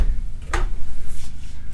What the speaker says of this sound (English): We have even have a drawer under the oven.